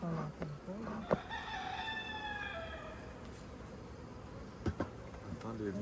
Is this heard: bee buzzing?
yes